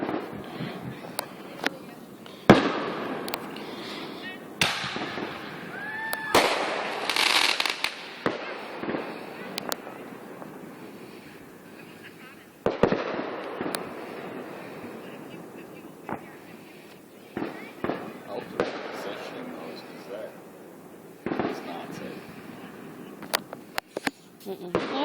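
Cheap backyard fireworks go off in a scattered series of sharp pops and crackles, some near and some farther off, with a brief whistle in the mix and people chatting between bursts.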